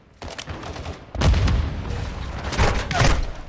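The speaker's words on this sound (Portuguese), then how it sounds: "Eu joguei a granada sem querer" A grenade explodes in Modern Warfare 2 amid a battle, heavy booming blasts and bursts of gunfire rolling in loud waves with chaotic combat noise.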